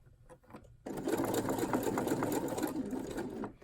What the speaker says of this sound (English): I am only sewing just a few inches at a time because I want to keep everything lined up with how I clipped it